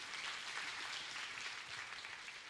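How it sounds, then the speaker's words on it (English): Audience round of applause for a student who has just completed a speaking task at a communication and career talk, a dense, even wash of many hands clapping throughout, somewhat distant, with no talking. "Let's give him a big round of applause."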